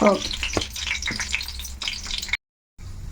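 A spoonful of cumin seeds fries in hot oil for semiya upma, giving a crackling sizzle with sharp utensil clinks. The sound drops out briefly near the end, then returns.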